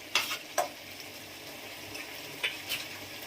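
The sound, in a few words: ghee added to mocha (banana flower) curry in pan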